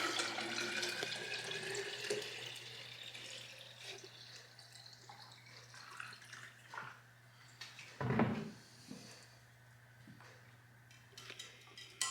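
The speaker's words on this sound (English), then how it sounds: "And you gotta add the milk. Fill it with milk." Raw milk is poured into a cup at home while making yogurt, a soft liquid splash and trickle under steady background hum, with a brief louder clatter partway through.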